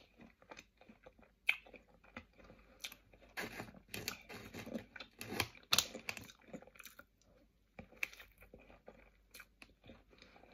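Someone bites and chews a chocolate eclair close to the mic, with soft irregular crunchy and squishy mouth sounds over about ten seconds and no talking.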